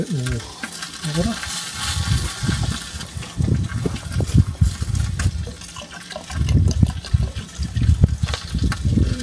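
Water pours and splashes into a camp cooking pot outdoors, a steady gushing fill with surges and gurgles over about nine seconds, close and fairly loud.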